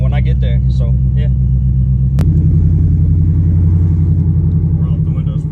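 A loud car driving on the way to a car meet, its deep engine rumbling close and steady, with someone talking over it at first before the droning engine carries on alone.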